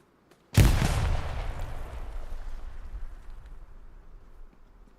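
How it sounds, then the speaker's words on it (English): A single loud gunshot or blast cracks out in the console shooter game Hell Let Loose, followed by a long rumbling echo that slowly fades across the battlefield. "Private Ram guns down Montcorion right there in the doorway."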